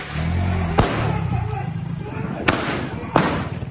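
Firecrackers go off in sharp, loud bangs during a street brawl between youths, three distinct blasts over a busy background of crowd noise and talk.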